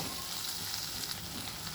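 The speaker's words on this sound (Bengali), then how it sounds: "এবার পেঁয়াজ রসুন আমি ভালোভাবে করে ভাজা ভাজা মতন করে নিচ্ছি" Onion and garlic frying in a pan give a steady, close, dense sizzle without pause, fairly loud throughout.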